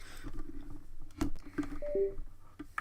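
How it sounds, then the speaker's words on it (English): Computer keyboard unplugged at a desk during a gaming session: a few soft clicks and knocks followed by two short device disconnect tones, close and fairly quiet, with no talking. "That is me disconnecting my keyboard because I'm just going to grab my other one."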